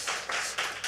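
A church congregation claps during a sermon, heard as a short burst of several quick, close claps.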